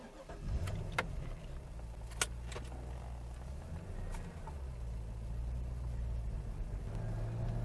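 A 2002 Corvette C5 Z06 with a 405 hp V8 idles in a steady, deep low rumble, with a few sharp clicks and knocks over the top and no talking.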